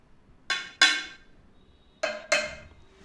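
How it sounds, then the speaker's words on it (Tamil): Two pairs of light taps on plastic tumblers, the first empty, the second water-filled and ringing slightly lower and duller, close up in a quiet room. "இரண்டாவது எழுப்பிய ஒலி தண்ணீர் உள்ள டம்ளர்லேருந்து வர்றது"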